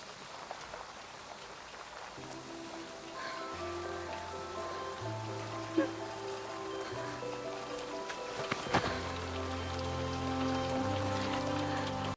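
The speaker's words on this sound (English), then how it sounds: "Sorry about the rain." Steady rain patters on a surface in a constant soft hiss, heard under music with sustained, shifting notes.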